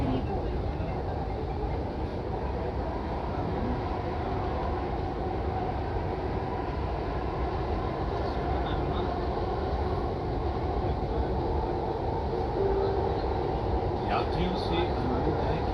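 A passenger train runs on its rails with a steady, close rumble and rolling clatter, droning continuously, while a public announcement voice speaks over it.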